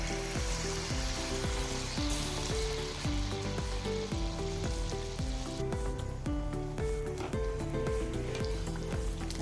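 Sugarless neyyappam batter poured into hot oil fries with a steady, continuous sizzle. Rhythmic background music plays throughout.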